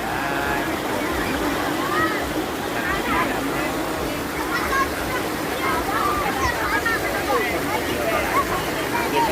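Water rushes steadily over rocks at the Kaeng Tat Sai waterfall rapids, a constant broadband roar with people talking faintly over it.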